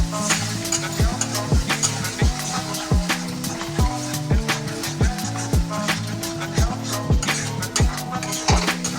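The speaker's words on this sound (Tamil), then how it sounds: "இப்போ வந்து 3 முட்டையா உடச்சி ஊற்றிட்டேன். இப்போ வந்து நல்லா கிண்டிக்கணும் கைஸ்." Three beaten eggs fry in a pan while being stirred. There is a steady sizzle, and a spatula scrapes and clacks against the pan in a repeated rhythm throughout.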